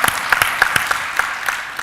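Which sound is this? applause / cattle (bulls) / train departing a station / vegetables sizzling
applause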